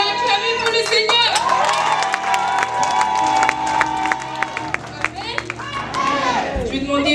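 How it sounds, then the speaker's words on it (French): A church congregation claps and cheers in praise of the Lord, rhythmic applause with shouts and a voice carried over the crowd, loud and close throughout. "Si vous avez la joie, acclamez pour le Seigneur"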